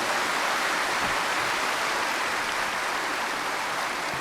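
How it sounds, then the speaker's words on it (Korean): A large congregation applauds to welcome the main speaker at a Korean Easter church service, a dense and continuous wash of clapping that stays even and sustained throughout. "큰 박수로 맞아주시기 바랍니다."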